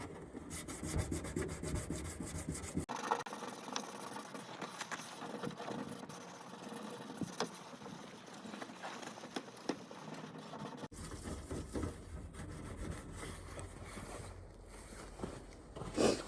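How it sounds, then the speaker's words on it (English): A truck headlight lens on a Ford F250 is sanded by hand with continuous, quiet, close scratchy rubbing whose texture shifts a couple of times as the strokes change. "now the sanding, which is gonna be fun"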